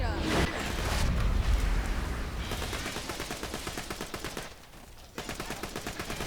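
Rapid pistol fire in Borderlands 2, played as Maya the Siren fighting infected skags: dense bursts of shots in quick succession, loud and continuous, with a brief lull before firing resumes.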